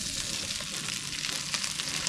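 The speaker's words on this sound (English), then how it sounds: "There, you hear them sizzling away." Steady, close sizzling of burgers frying in a pan, a continuous crackling hiss with small pops throughout.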